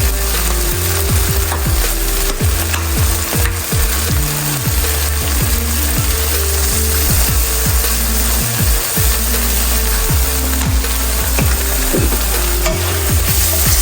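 Curry powder being stirred into saltfish and tinned mackerel frying in a pan for a Jamaican rundown, steady loud sizzling with repeated scraping strokes of a spoon against the pot, close up and without talk.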